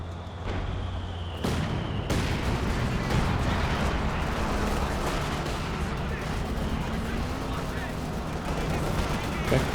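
Mortar and artillery fire in a Company of Heroes 2 match: a sharp launch thump opens onto a continuous dense roar of battle, booms and gunfire throughout, with a commentator's voice partly under the din.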